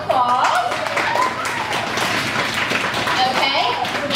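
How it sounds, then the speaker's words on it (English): An audience applauds models at the end of a fashion show, a dense, steady patter of clapping from a room of people that runs throughout, with voices and cheers mixed in. "Let's give our models a round of applause."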